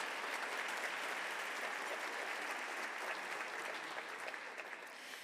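Steady applause from an awards dinner audience in a sold-out room at a public leadership awards evening, dense and sustained throughout, easing slightly near the end.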